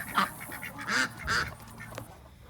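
Ducks on a farm give a few short, raspy quacks in quick succession, close and fairly quiet against a low background hum.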